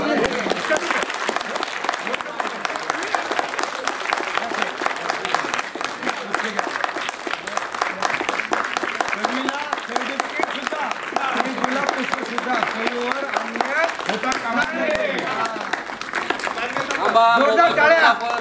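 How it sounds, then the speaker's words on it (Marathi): An audience at a Marathi epic poetry gathering in Pune applauds with loud, dense, continuous clapping that keeps going for about eighteen seconds, rising slightly toward the end. "सर्वांनी टाळ्या वाजवा."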